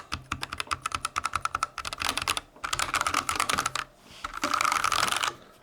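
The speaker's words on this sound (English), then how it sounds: "Everyone always says I don't click the keys enough to give you some sound." Rapid clacky keystrokes on a Drop Rohan mechanical keyboard in several bursts, close and crisp, with brief pauses between runs and no talking.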